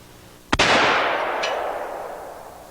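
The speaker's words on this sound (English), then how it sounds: "I'm not sure why you'd want to shoot upside down unless you absolutely had to." A single sharp gunshot from a gun fired upside down, a loud close crack followed by a long decaying echo tail, with a faint second report shortly after.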